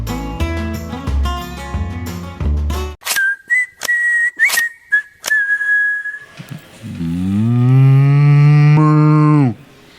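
A man imitates a cow with a long, loud, drawn-out moo near the end, after a stretch of music and a few whistled tones with sharp knocks.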